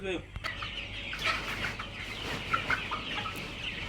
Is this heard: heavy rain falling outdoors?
no